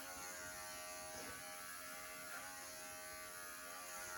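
Pet grooming clippers with a comb attachment buzz steadily and faintly, a continuous electric hum with no talking.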